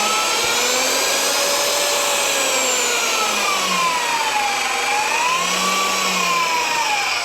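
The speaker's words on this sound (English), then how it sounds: "when you got the magnet on, you turn it on. It's variable speed." A reversible, variable-speed magnetic drill runs continuously and loudly up close, its motor whine rising and falling in pitch as the speed changes.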